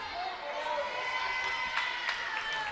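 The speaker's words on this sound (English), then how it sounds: "Very energetic crowd, though, on both sides." Crowd at a high school volleyball game, a steady wash of cheering and shouting voices with a few sharp whistle-like bursts, heard from inside the gym, with a commentator talking over it.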